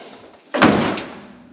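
A Crown Vic police car door with its door skin cut out is shut once, a single close, loud thud that stands out sharply against a quiet garage background and then rings down briefly.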